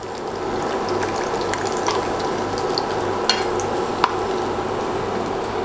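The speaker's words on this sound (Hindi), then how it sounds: "तब तक इसे डीप फ्राई करेंगे हम लोग" Bread slices for shahi tukra deep frying in hot oil, a dense, constant bubbling sizzle at steady loudness, close up, broken by a couple of faint metallic clicks and no voices.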